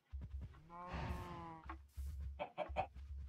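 Chickens clucking in modded Minecraft, a video game, a sustained, harmonic squawk followed by several short, choppy clucks, close and fairly loud, with no voices.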